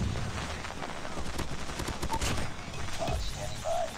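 Gunfire in Call of Duty Mobile, a steady stream of rapid automatic shots at mid distance with dense crackling bursts throughout.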